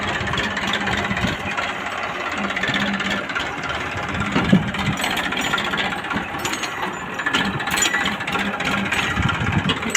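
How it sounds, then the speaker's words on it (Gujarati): A tractor engine rumbles nearby as it drives past, with rattling, clanking mechanical noises over a steady low drone, staying fairly loud throughout. "અત્યારે જાય છે ટ્રેક્ટર"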